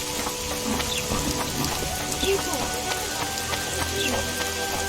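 Rain in the video game The Witcher 2 patters and drips continuously on surfaces, with faint tonal hums and scattered soft noises in the background.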